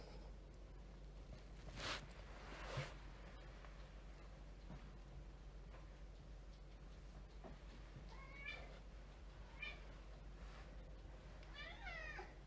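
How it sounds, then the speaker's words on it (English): A cat meows several times, short rising calls in the background, with faint scratching and rustling nearby between them. "that's my cat in the background"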